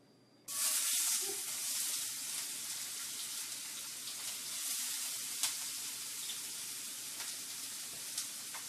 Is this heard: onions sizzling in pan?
yes